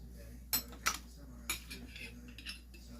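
A utensil scrapes and knocks against a Food Saver take-along container while food is scooped out, a few sharp clicks followed by softer scraping taps, close and quiet.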